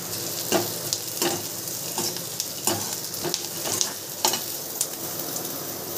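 Onion frying in hot oil for a red-masala Bombay duck curry gives a constant sizzle, broken by regular scraping clicks of stirring about every half second, heard close and without speech.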